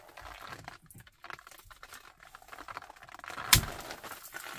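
Cutting the other side of a water filter line during a filter replacement, a series of close ticking, crackling cuts with one sharp snap near the end.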